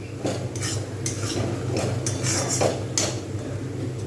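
Coconut and sesame laddu mixture being stirred in a pan, with a spoon scraping and clinking against the metal in repeated strokes over a steady low background hum.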